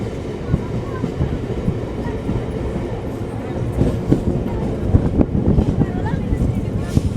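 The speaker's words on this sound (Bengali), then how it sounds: "আর এই যে মহারাজপুর থেকে আমাদের ট্রেন এখন রওনা দিল হচ্ছে সাহেবগঞ্জের উদ্দেশ্যে।" A passenger train pulls out of Maharajpur toward Sahebganj in Jharkhand, its steady low rumble carrying faint clicks and rattles that grow slightly louder and busier toward the end.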